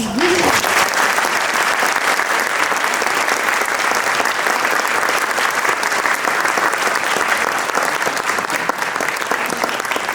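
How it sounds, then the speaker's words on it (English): Sustained audience applause fills a room at an awards breakfast, dense and steady from start to finish at close range, with a little talk mixed in. "Now we can applaud."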